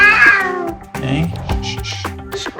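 A Persian cat meows loudly and insistently at close range during a vet examination, with drawn-out, complaining cries and a vet's voice talking over and between them.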